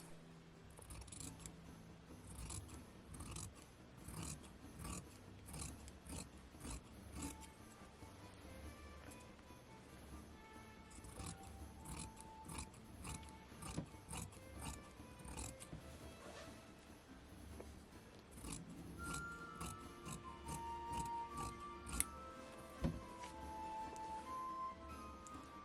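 Scissors cut fabric along a drawn line, a faint series of irregular snips and clicks, close and quiet, with soft handling noise between cuts.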